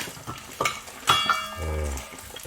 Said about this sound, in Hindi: गोश्त उबल रहा है, तो इसका सूप बनाएंगे।